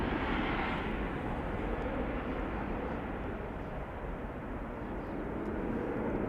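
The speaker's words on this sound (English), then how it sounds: "KLM Embraer 190 going to Bergen." A KLM Embraer 190 jet heading to Bergen from Schiphol sends out a soft, fairly distant engine rumble that stays level with a slight dip midway, and nobody speaks.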